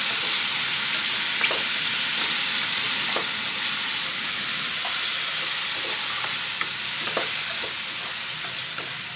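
Mushrooms and shrimp stir-frying in a pan give a steady, close sizzle with frequent spatula clicks and scrapes throughout, and no talk.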